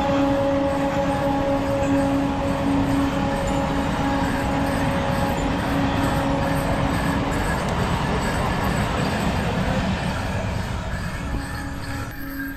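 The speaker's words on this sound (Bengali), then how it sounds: "দূরে ট্রেন চলে গেল।" A distant train rolls past during a roadside pilgrimage walk toward Tarakeswar, a steady broad rumble with faint tonal hum sustained throughout, heard alone with no talk.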